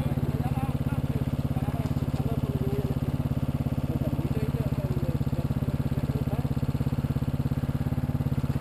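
Motorcycle engine running at a steady idle nearby, an even low chugging throb that continues throughout while people talk over it.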